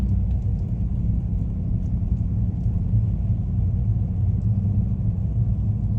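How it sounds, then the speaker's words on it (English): Car rolling along a leaf-covered road through the woods of Clark State Forest, a steady low engine and tyre rumble heard from inside the vehicle, constant with no talk. "it's just like driving through the middle of the woods here"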